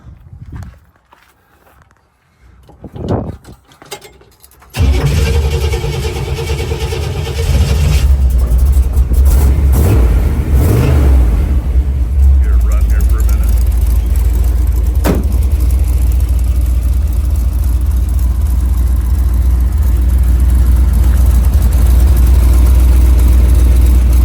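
A 1976 International Harvester Scout is started after a few quiet moments of footsteps and handling. The engine catches abruptly and settles into a loud, steady, low idle that runs nearby for the remaining twenty seconds.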